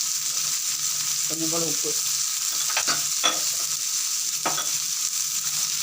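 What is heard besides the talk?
onion and tomato sautéing in a pan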